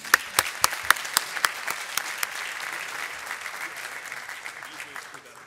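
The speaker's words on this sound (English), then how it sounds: "Please, big round of applause for Ravi" An audience claps for Ravi Kuparaj of Philips Connected Sensing Venture at the Philips 2017 Wearables Challenge event, starting with a few sharp, loud close claps, then settling into a softer, steady round of applause.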